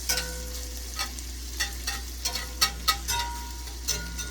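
Chicken Alfredo lasagna sauce base sizzling steadily in a pan, close and continuous, with light stirring clicks and scrapes scattered throughout, no speech.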